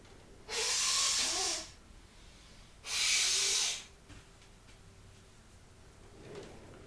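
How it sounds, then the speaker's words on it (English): A person blows their nose twice in close succession, each a loud, breathy, hissing blast about a second long, followed by quieter sniffles; no talk. "How to blow your nose."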